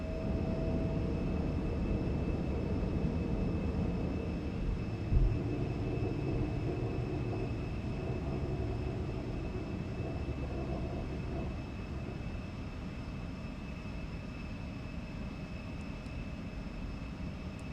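Simulated Embraer E175 jet engines in X-Plane 12 during a climb after takeoff, a steady broadband roar with a constant high tone, holding loud and even throughout with one brief thump near the start.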